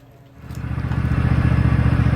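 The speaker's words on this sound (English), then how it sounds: "we want to start it up, put it on half throttle, 6 times forward and 6 times backwards" A Toro Timecutter MX5060 zero-turn mower engine starts up in a garage and settles into a steady, rhythmic chugging at half throttle, close and growing louder after a quiet first moment.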